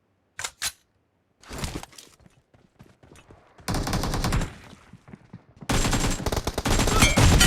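Gunfire in the BGMI battle royale game: a couple of isolated shots, then scattered bursts building into sustained automatic fire in long loud stretches, with no talk.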